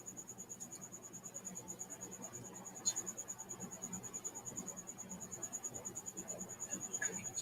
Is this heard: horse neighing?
no